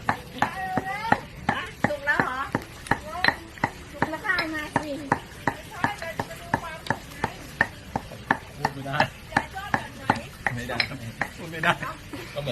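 Squid pounded with a mortar and pestle, a long run of loud, sharp, ringing strikes at a steady, slightly uneven rhythm, some with a hard clink, while voices talk faintly in the background.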